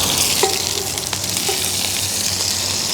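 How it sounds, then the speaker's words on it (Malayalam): Curry leaves sizzling in hot coconut oil on a tawa, a loud close crackle and hiss with a few sharp pops, steady throughout. "അപ്പോൾ എണ്ണ ചൂടായി വന്നിട്ട് ഇതിലേക്ക് നമുക്ക് കറിവേപ്പില ചേർത്ത് കൊടുക്കാം."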